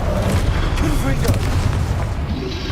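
Confringo fire spell exploding in the Hogwarts Legacy game, a loud booming blast with crackling debris rumbling on for a couple of seconds, mixed with other game noise.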